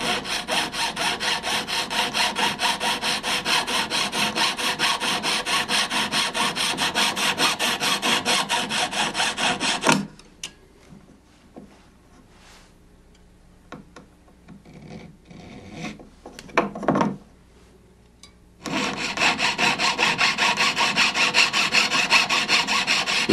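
A jeweler's saw cuts through a metal ring, a rapid, even rasping stroke rhythm up close, stopping for several seconds of quiet handling clicks before the sawing resumes.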